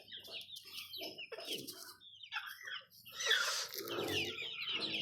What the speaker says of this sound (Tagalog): Ito yung mga sisiw nila.